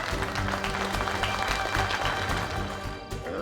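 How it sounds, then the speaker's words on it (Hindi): Audience applause breaking out on request for a family's son-in-law, Mr. Aahan, at a gathering: a dense, continuous patter of many hands clapping at moderate loudness, holding steady throughout without voices standing out. "एक बार तालियां हो जाए भाई"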